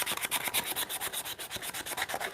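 A hand file smooths wood for a mortise and tenon joint on a timber-framed bunk bed. About a dozen quick, even rasping strokes sound close up, steady and alone.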